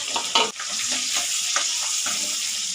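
Garlic, onion, fenugreek leaves and green chili sizzle in hot oil as a tempering for a Chhattisgarhi elephant foot yam dish, with a few sharp stirring scrapes early on over a steady frying hiss.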